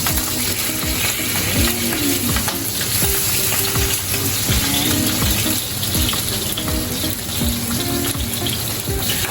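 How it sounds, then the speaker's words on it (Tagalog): Galunggong fish frying in hot spattering oil, a loud continuous sizzle with popping crackles running steadily throughout, close up. "So, nakakatakot sa pag-prito eh. Pagtatik ng mantika."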